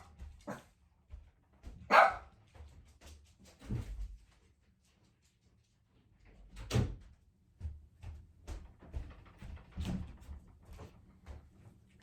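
A dog barks in short bursts at someone coming in, the barks scattered and fairly distant inside a quiet room, with soft thuds like a door or cupboard between them.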